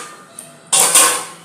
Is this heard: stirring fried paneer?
yes